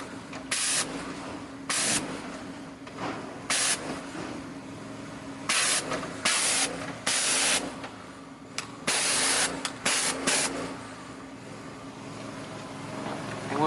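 Water sprays in repeated short bursts inside a commercial work truck cab during interior detailing, loud hissing blasts over a steady background hum, with no talking.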